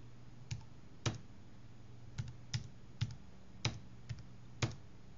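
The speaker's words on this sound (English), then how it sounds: "let's go ahead and type in some scene numbers" Scene numbers are typed on a computer keyboard as a handful of sparse, separate keystrokes tapped at an uneven pace, quiet and close over a faint low hum.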